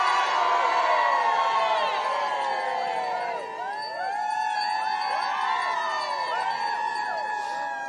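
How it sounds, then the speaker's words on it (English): Dense crowd of East Kilbride people cheering and whooping outdoors at a morning charity event, a loud sustained roar with overlapping high shouts and screams, briefly dipping before surging again. "People of East Kilbride are here."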